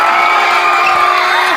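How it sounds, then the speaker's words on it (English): A movie theater audience at a Spider-Man: No Way Home screening cheers loudly, a continuous roar of shouts, whoops and excited voices blending into one thick crowd sound. "Hear the crowd noises."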